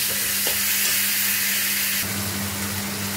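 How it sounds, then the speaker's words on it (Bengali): Ginger and spice masala sizzle loudly in a pan over lowered heat, a steady frying hiss with occasional scrapes of stirring, close and continuous. "সমস্ত মশলাগুলো দিয়ে আমি গ্যাসটা একটু কমিয়ে ভালো করে মশলাটা কষিয়ে নেব"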